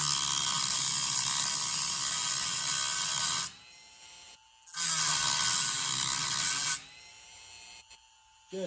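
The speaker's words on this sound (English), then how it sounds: "I like the Dremel that you can turn up, turn down" A variable-speed Dremel rotary tool cutting an antique jaw harp during reed replacement, a high buzzing whine in two bursts separated by short pauses with quiet handling noise between, close and moderately loud.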